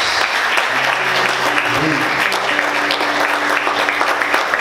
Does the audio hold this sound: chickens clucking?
no